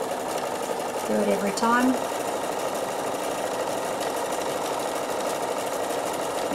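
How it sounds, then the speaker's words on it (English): A Bernina sewing machine stitching a cord onto the edge of a fabric postcard: a steady, close mechanical whirr that runs the whole time, while someone speaks briefly over it. "we're going to sew the cord on the edge to finish it off"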